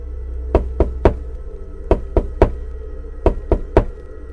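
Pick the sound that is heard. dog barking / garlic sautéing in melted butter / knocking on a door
knocking on a door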